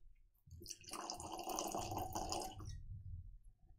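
A whisky sample shaken in a glass, a soft continuous sloshing and bubbling swell lasting about two seconds before fading, close and quiet.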